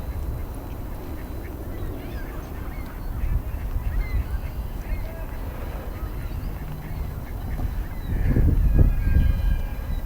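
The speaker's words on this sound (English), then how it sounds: "there's ducks everywhere" Ducks and geese at North Pond in Lincoln Park, Chicago, quacking and honking intermittently in the distance over wind noise, with a louder low rumbling burst near the end.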